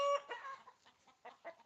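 Chickens cluck in short, uneven bursts in a village, fairly faint and close, with quiet gaps between the calls.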